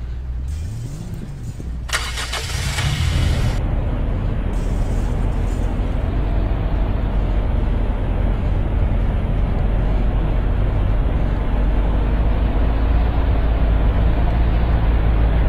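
A car engine in the Roblox game turns over with a brief starter whir, then settles into a steady, loud driving drone that holds for the rest of the stretch.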